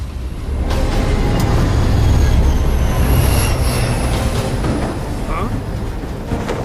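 A train in an animated action series rumbles steadily with rolling wheel and railcar noise, loud and continuous, swelling slightly in the middle and easing toward the end, with a faint squeal near the close.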